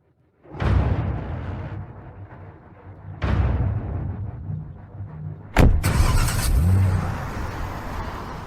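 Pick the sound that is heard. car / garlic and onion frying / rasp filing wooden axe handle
car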